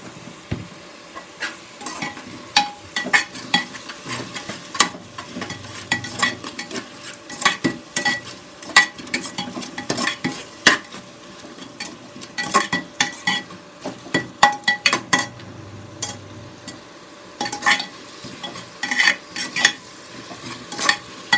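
Onions sautéing with salt in a pan for prawn biryani give a low sizzle under frequent, rhythmic scrapes and clacks of a spoon stirring against the pan.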